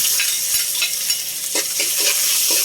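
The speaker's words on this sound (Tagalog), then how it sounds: "Gisa tayong bawang." Garlic sautéing in a hot pan for a simple gourd dish, giving a loud, continuous sizzle with a few soft scrapes of stirring near the end.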